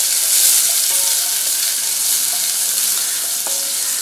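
Chana dal and urad dal fry in hot oil, a steady close sizzle with occasional stirring clinks and pops, with no talking.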